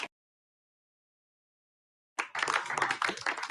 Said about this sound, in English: a little bit of applause never hurt anybody